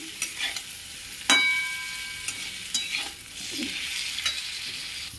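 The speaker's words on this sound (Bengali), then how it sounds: "নাড়াচাড়া করে নেব।" Fried vegetables tossed and stirred in a kadai, a steady broadband sizzle with scraping spoon strokes and a couple of sharp metallic clinks, close and moderately loud, no talk.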